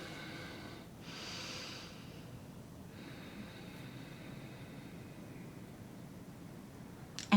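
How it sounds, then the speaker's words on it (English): Slow, deep breathing during a guided relaxation session: a long, soft inhale early on followed by a gentle, faint exhale, close and quiet against low background hiss. "Take a few nice deep breaths."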